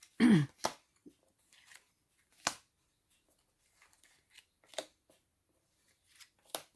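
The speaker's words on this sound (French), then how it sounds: "je vais recouvrir quelques cartes pour avoir des compléments d'information" Tarot cards handled during a reading: scattered soft slaps and flicks of cards being laid down, spaced irregularly over near silence, with a short voiced sound at the start.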